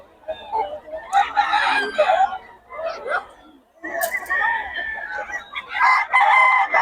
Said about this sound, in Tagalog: Puro solid manok ni Boss Perry